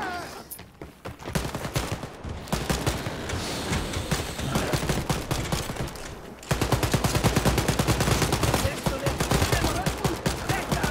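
Sustained automatic gunfire in Wolfenstein: Youngblood, rapid dense bursts nearly nonstop and loud throughout, with a brief pause near the middle before the firing resumes even harder.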